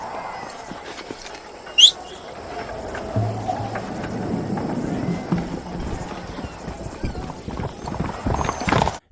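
Horse hooves clip-clop steadily in the Red Dead Redemption: Undead Nightmare game, a dark bay horse trotting at moderate distance over low ambient noise, with a brief sharp squeal near the start.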